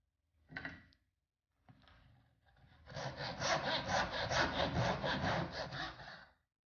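A handsaw cuts a quarter inch off wooden dowel rods, first a couple of short strokes, then a steady run of about ten rhythmic back-and-forth rasping strokes, close and clear with no talking.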